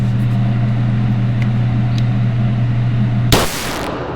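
A Beretta PX4 Storm 9mm compact, polymer-framed pistol fired at a range: one loud, sharp report near the end cuts through a steady low hum, then the sound drops away.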